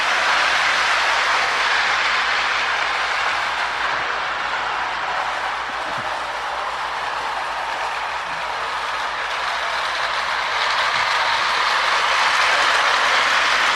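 An Ives 1122 toy train runs steadily around its track with a continuous whirring rumble and faint rail clicks, close by and alone with no voices.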